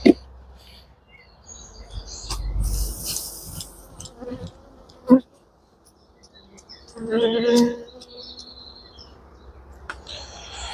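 Honey bees buzz around an open hive while a beekeeper clears them out of a honey-filled super, with faint intermittent buzzing, occasional bumps and knocks, and a few soft chirps.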